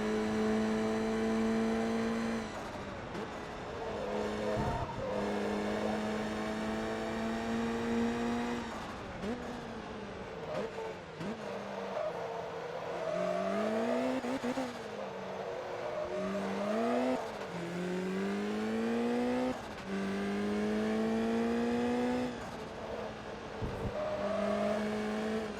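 Rallycross car engine from Forza Motorsport 2 racing hard, loud and continuous, with revs climbing and dropping through gear changes and brief lifts, plus a short tire squeal.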